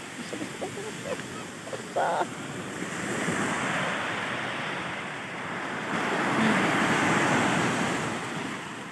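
Waves at Alexandria beach surge and recede in a steady roar that swells twice over several seconds, with wind buffeting the microphone and a few faint knocks early on.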